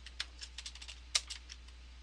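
Typing on a computer keyboard: a quiet run of separate key clicks over about two seconds, one noticeably louder, with no talk.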